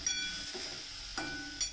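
Peanuts and hand-crushed capsicum sizzle in a little tempering oil for Gujarati sweet-sour dal, a steady close hiss broken by a few short scraping stirs.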